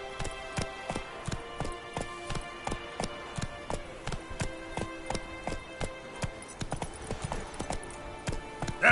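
Roach the horse galloping in The Witcher 3, a fast, even rhythm of sharp hoofbeats repeating close and clear for several seconds, with no talk over it.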